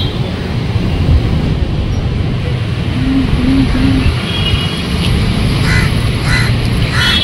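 Ducks quack at a temple pond in Chennai, short repeated calls near the middle of the clip, set against a constant loud wash of traffic and outdoor noise.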